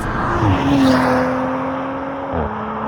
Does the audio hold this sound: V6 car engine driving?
yes